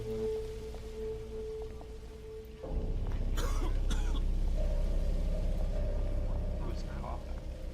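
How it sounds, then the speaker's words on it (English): Coughing and throat clearing in the video game We Happy Few, a few short rough bursts rising over a steady low background rumble and game ambience. "Who's coughing?"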